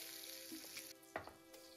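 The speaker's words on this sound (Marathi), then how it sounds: "लसूण थोडा खरपूस झाल्यानंतर त्यामध्ये एक मच्छीची तुकडी मी फ्राय करायला घेतली" Fish pieces frying in hot oil with crushed garlic on a griddle, a quiet steady sizzle with a few soft clicks and stirring touches, close and faint, with no talking.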